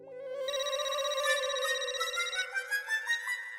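A telephone rings with a bright, tonal electronic ringtone in a home scene from the sitcom Taarak Mehta Ka Ooltah Chashmah. It rises steadily and then pulses in a quick repeating pattern near the end, alone with no talk.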